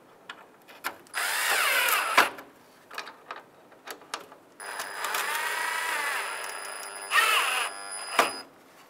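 A power drill tightens the headlight bezel trim screws on a 1992-1996 Ford F-150, whining in several close bursts of varying length, with rising and falling pitch and brief clicks between runs.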